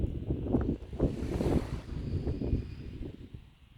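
Gusty wind buffets the microphone on a beach at Pwllheli during shore fishing, a rough rumbling roar that swells and fades over a few seconds.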